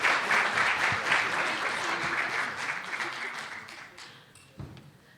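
An audience at a press club event applauds the speakers, a dense burst of clapping that starts strong and gradually fades out over a few seconds, with a last faint clap at the end.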